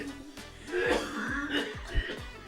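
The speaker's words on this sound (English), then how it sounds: "Do you notice he's purposely coughing into the microphone?" Someone coughing and clearing their throat close into a microphone, a few rough bursts spread over a couple of seconds amid classroom chatter.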